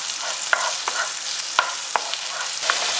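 Diced pancetta browns in a pan with a soft, continuous sizzle punctuated by a few sharp crackles and spatters, close up and with no voices.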